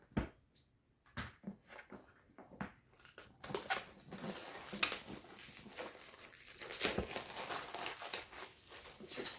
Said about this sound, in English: So let's open the box, split the plastic, and see what we find inside.